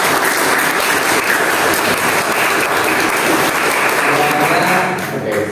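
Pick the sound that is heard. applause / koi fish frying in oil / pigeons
applause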